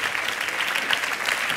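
Studio audience applause on a French music television show greets a performer, a steady dense wash of clapping held at an even level from start to finish, with no voices.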